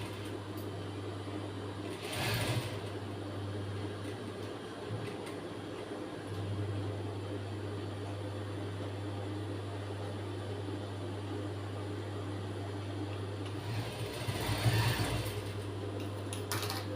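A sewing machine runs a second line of stitching over an existing blouse seam, a steady low motor hum with brief louder bursts near the start and end.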